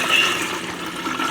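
Fresh water pours steadily into a duckling brooder, a continuous close splashing rush with no voices.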